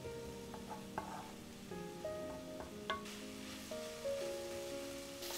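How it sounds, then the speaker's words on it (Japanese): Bacon sizzles steadily over medium heat in a pan, a soft close frying hiss with occasional utensil scrapes and clinks, under quiet background music. "中火でベーコンを炒めていきましょう"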